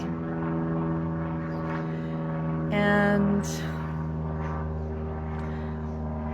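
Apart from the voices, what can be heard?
airplane flying overhead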